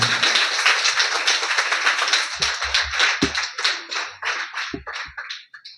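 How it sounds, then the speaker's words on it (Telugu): A church congregation claps to welcome the bishop, a dense burst of many hands that thins into scattered, uneven claps and fades out near the end. "మనమందరం కూడా శ్రద్ధ చప్పట్లు కొట్టి అయ్య గారు ఆహ్వానించాం"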